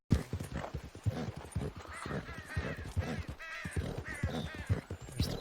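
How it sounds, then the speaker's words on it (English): A horse's hooves clip-clop at a steady trot during a ride in a video game, rhythmic close thuds mixed with faint bird calls and background game sounds. "Take my horse to the old town."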